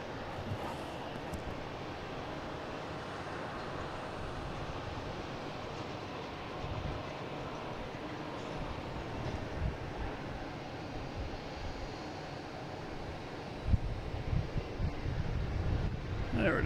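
A British Airways airliner takes off, heard from a distance as a broad, steady roar mixed with wind buffeting on the microphone, swelling slightly toward the end.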